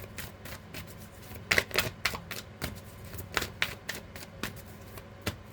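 Tarot cards are riffled and shuffled in quick, crisp bursts of flicking, soft and close, with short pauses between rounds.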